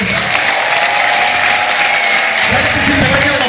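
Church congregation clapping together, a loud, dense and continuous burst of applause that fills the room, with voices mixed in toward the end.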